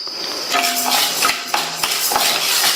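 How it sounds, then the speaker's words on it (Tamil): Dry urad dal lentils poured into a pan for roasting, giving several light, sharp clinks and rattles of grains and metal at close range, with no talk. "அதே பேன்லயே நம்ம துவரம் பருப்பு எடுத்த அளவுக்கு உளுந்து சேர்த்து வறுத்துக்கலாம்"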